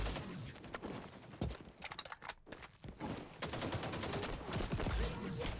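Rapid automatic fire from the ACR assault rifle in XDefiant, sustained bursts with a brief pause midway, loud and close with no voices.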